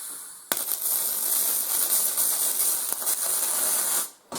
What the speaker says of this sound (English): So I'm going to weld this up real quick.